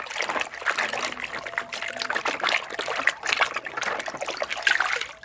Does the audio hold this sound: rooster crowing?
no